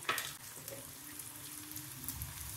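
Chopped onion sizzles gently in a spoonful or two of oil for an omelette, a soft steady crackle with a few faint pops and stirring sounds.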